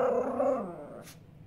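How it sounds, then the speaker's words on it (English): A small Maltipoo puppy growls low and briefly, then a short sharp sound follows before quiet. "she starts growling at you and barking at you"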